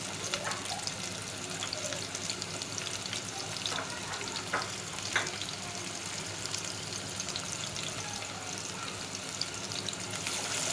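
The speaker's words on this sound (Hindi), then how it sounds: "पहले जो है मैं प्याज का बघार दूँगी, उसके बाद टमाटर से।" Onions fry in hot ghee for a dal tempering, a continuous close sizzle and crackle with occasional faint stirring sounds, steady in loudness throughout and with no voices.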